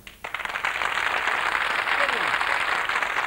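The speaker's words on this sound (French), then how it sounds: "Et moi, je vous applaudis." Studio audience applause on a French television tribute show, a loud, steady wall of clapping that starts abruptly and continues, with a voice briefly heard over it.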